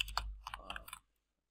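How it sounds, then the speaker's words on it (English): Quick burst of computer keyboard typing while database connection parameters are entered, a dozen or so close, crisp keystrokes in rapid succession that stop abruptly, leaving silence. "So let's just type in the parameters."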